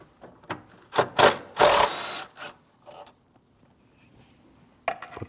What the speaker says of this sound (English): Now you can take your 10 millimeter bolt out here.